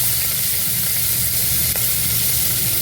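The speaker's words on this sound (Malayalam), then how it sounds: "ഒരു 2 മിനിറ്റ്സ് സോട്ട് ചെയ്ത് എടുക്കുക." Chopped medium-sized onion sautés in a pan for a South Indian tomato rice, giving a dense, continuous sizzle and crackle of frying, close and steady with no voices.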